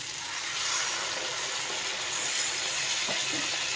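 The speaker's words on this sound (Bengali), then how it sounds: "মশলাটা সুন্দর ভাজা ভাজা হয়ে গেছে এবার আমি এর মধ্যে জল দিয়ে দেবো" Hot water poured into fried spice masala for an egg bhapa dish, a continuous loud hiss and sizzle of steam rising from the pan, with no talking.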